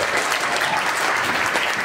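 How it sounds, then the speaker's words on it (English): Audience applause fills a talk-show studio for Tonya Williams of The Young and the Restless, a dense, steady wash of clapping that holds at full strength throughout. "You knew they would give you that applause"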